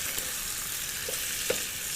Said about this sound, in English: And I'm frying it in dripping.